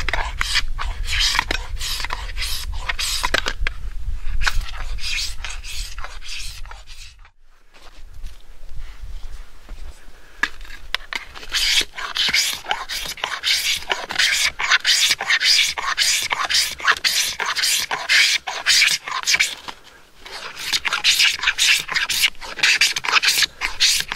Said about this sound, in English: you can shave a lot of stuff off of this snowshoe